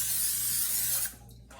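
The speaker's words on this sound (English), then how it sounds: "cooking spray to the pan" Cooking spray hisses from a can onto a pan in one steady burst of about a second, then cuts off abruptly, close and clear with no talk.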